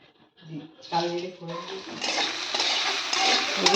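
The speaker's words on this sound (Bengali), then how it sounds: "এখানে সব ভেজে নিচ্ছে কাঁচা লঙ্কা আছে বেগুন আছে পেঁয়াজ আছে" Clattering pan and stirring sounds build into a steady frying sizzle of green chillies, eggplant and onion that grows louder toward the end, with a voice talking briefly near the start.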